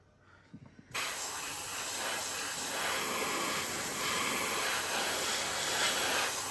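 Aerosol spray paint hissing onto a 1972 Chevy Fleetside model truck, starting abruptly after a short quiet moment and then holding a loud, steady close-up hiss to the end.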